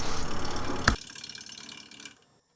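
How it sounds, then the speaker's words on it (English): Wood lathe spinning a resin bowl blank while a tenon is cut for chuck jaws, a loud rumbling whir with rhythmic pulsing, a sharp knock, then the motor spinning down to silence. "I'm turning a tenon now to fit into the jaws of my one-way stronghold chuck"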